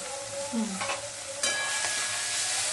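Fresh ginger and garlic fry and sizzle in oil in a pan while being stirred for an aloo veg biryani, giving a steady loud hiss with scraping spoon sounds and a brief metallic clink.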